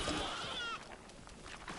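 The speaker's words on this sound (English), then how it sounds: "You're a goat now." A goat bleats in Plants vs Zombies Garden Warfare 2 multiplayer, one wavering, nasal bleat in the first three-quarters of a second over busy game noise, followed by softer game sounds.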